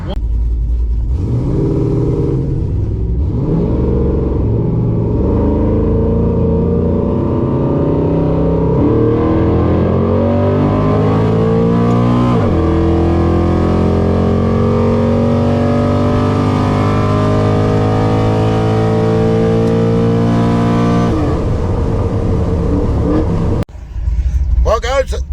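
Twin-turbo Chevy truck accelerating hard in a roll race pass near 100 mph, a loud engine roar climbing through several gear changes over about twenty seconds before cutting off abruptly.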